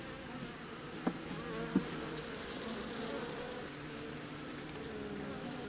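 Honeybees buzzing around an open hive packed with many drones, a dense, steady drone that holds throughout, with two brief clicks from handling the hive.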